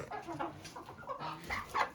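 Several hens cluck and chatter nearby in a coop in overlapping bursts, growing a bit louder toward the end, with no talking.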